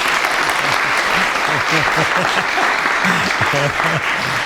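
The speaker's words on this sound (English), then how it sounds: "A little applause, please." Audience applause at a violin masterclass, a steady wash of many hands clapping close by for several seconds, with a voice speaking over it.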